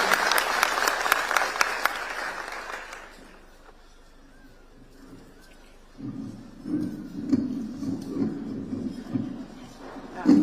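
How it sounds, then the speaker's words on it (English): Students at a school event give a warm round of applause welcoming Reverend Carolyne Maina, brisk and full for about three seconds, then dying away into quiet before a voice begins speaking. "Students, why don't we welcome her with a warm clap to begin our speech."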